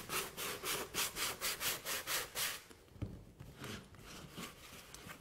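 Rhythmic rubbing strokes as Fresco paint is worn off a pot with a wet glove, about a dozen steady back-and-forth passes, then quieter, irregular scrubbing.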